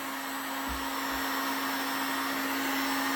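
Steady, loud blowing roar of a heat gun warming the end of a petrol pipe on a Villiers Mk12 motorcycle engine, a constant broadband hiss with a faint hum throughout and no speech.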